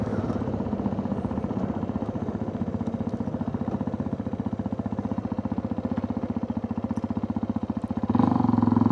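Motorcycle engine running steadily while riding off road, a close, continuous mid-pitched drone that swells louder near the end, no talking.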